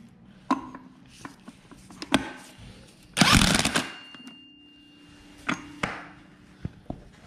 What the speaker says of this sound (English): just take your impact and tighten it back up